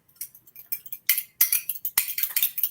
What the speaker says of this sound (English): I'm going to use another fork to whisk it all up.